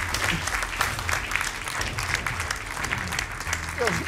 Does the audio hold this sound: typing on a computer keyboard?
no